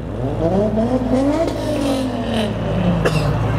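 A car with an imported Japanese Honda H22A engine revs at a car meet, its tone rising and falling in a couple of throttle blips amid steady background rumble.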